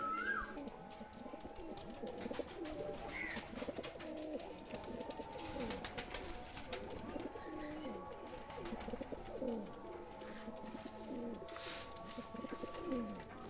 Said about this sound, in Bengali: তো দুইটা কবুতার ছেড়ে দেখাচ্ছি আমি